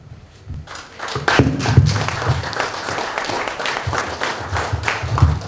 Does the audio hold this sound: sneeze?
no